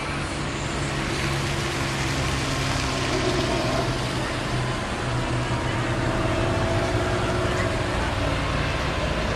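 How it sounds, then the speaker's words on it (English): Several Porsche cars roll in and arrive at a club gathering, a steady close engine rumble of idling and slow-moving vehicles continuing throughout with a faint voice underneath. "There's just a few more cars coming in."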